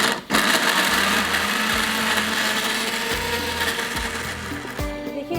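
A loud kitchen blender grinds thick tomatoes without water, motor whining steadily with brief pulses and stops, close up and with no talking.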